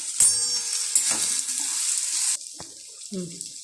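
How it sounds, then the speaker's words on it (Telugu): Tomato curry being stirred with chili powder and salt, a few scraping strokes and sizzling bursts, followed by quieter spoon clicks and brief pauses. "కారం, హాఫ్ స్పూన్ సాల్ట్ వేసి బాగా కలపాలి"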